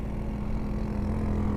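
A local motorcycle tricycle in Samar or Leyte, Philippines, its engine running with a steady low, throbbing drone and constant rumble close by.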